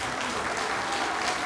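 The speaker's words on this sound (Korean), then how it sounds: "힘찬 응원의 박수, 그리고 축하의 박수 부탁드리겠습니다" Steady applause from an audience at a party members' convention in Jeonju, a dense continuous clapping that fills the hall throughout.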